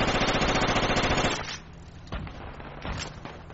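Sustained automatic gunfire from Project Reality, a military shooter game: a dense, loud rattle of rapid shots for about a second and a half, then scattered nearer bursts and booming reports trailing off.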